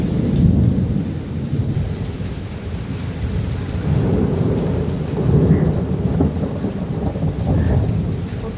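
Rain falls steadily while deep thunder rumbles roll through in repeated swells, loud and close, heard alone with no voices.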